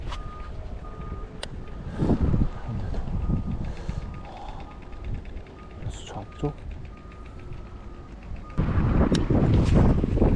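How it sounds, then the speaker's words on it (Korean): Wind gusting across a microphone at a canal-side bass fishing spot in Gimhae, a low rumbling buffet that swells loudly near the end, with a voice talking over it. "바람이 계속 불고 있어요"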